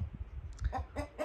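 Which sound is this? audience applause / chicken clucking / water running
chicken clucking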